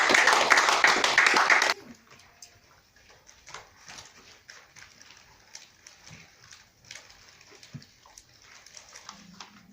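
A church congregation applauds during a French-language worship service: a dense burst of many hands clapping fills the opening seconds and then breaks off, leaving scattered claps, shuffling and faint voices.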